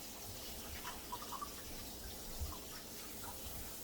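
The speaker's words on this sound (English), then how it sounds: "I'm going to put some cool water on it." Cool tap water runs over drained pasta in a colander, a soft steady flow with a few light splashes and trickles, heard alone.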